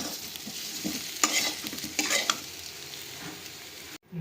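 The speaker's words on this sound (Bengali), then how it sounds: "আলু আর কাঁঠাল দুটোকেই খুব ভালো করে ভাজা করে নেব।" Potatoes and jackfruit sizzling in hot oil in a pan, stirred with a few sharp scraping strokes over a constant close frying hiss.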